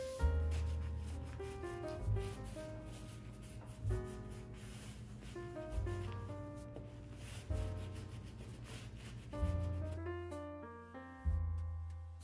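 A hand rubs stain finish into a thrifted art piece in a run of soft, repeated strokes, faint and close, with a short pause between each pass and no voices.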